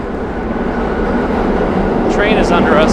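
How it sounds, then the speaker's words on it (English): Subway train rumbling beneath a Manhattan street between Kips Bay and Chinatown, a steady low roar that swells slightly, with city traffic noise and a faint squeal near the end. "Train is under us."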